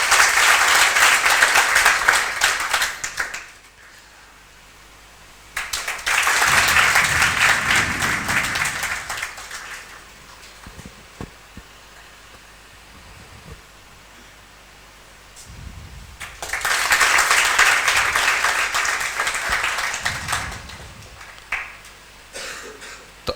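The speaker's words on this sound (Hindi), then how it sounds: "रोनू के लिए आप एक बार जोरदार तालियां बजाएं।" Two bursts of applause from a gathered audience at an army recruitment coaching event, each several seconds long, separated by quieter stretches with rustling and a few coughs.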